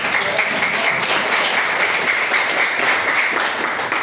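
A classroom of people applaud steadily for several seconds, a dense even wash of clapping with no voices rising above it.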